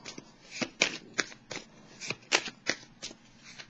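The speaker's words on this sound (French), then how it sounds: "Je vais déposer quelques petites cartes." Tarot cards being laid down on a surface during a reading, a run of about ten crisp, close slaps and flicks in an uneven rhythm with no voices.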